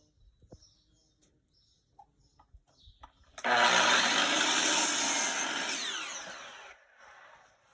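Power saw cutting into a wooden block and throwing up a cloud of sawdust: a loud, steady high whine that starts abruptly, runs about three and a half seconds and then winds down, with a few small knocks and bird calls before it.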